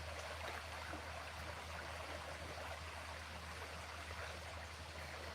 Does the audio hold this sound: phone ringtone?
no